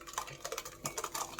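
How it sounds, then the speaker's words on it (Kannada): Fresh butter is spooned into a metal vessel while making homemade ghee, giving light, irregular clinks and scrapes of utensil against pot, close and fairly quiet, with no talking. "ನಾನು ಇವಾಗ ಒಂದು ಪಾತ್ರೆಗೆ ಹಾಕ್ತಾಯಿದ್ದೀನಿ"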